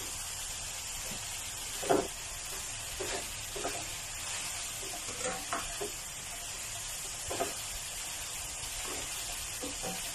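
Chopped Chinese cabbage being stir-fried with instant noodles in a hot pan, a steady sizzle with scattered scraping stirs and occasional louder clacks of the utensil, close and continuous, with no talking.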